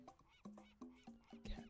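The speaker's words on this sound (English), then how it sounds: "I thought I heard a real seagull outside of my window." A seagull call from a video game, The Long Drive, plays as a series of four or five short, fairly quiet honking squawks with even gaps between them and no talking over them.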